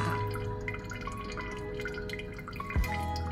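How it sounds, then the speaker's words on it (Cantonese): Water gurgles and drips in a hotel bathroom floor drain under a steady low hum, with one distinct falling plop near the end. "我喺酒店嗰個廁所嗰個去水位呢，係一直聽到呢一個水聲嘅，大家可以聽下"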